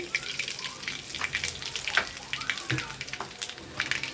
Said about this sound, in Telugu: వెల్లుల్లిపాయలండి, అలాగే ఎండుమిర్చి, కొంచెం ఇంగువ అయితే వేస్తున్నానండి